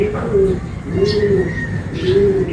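Racing pigeons give three clear, rounded coos at an even pace, close by, with a faint chirp and background murmur between them.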